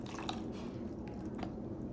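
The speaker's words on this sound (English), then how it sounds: "Add some water." Water poured into a cup of plaster powder for a small cast, giving a soft, continuous wet trickle with faint drips and squishy bubbling, close and steady throughout.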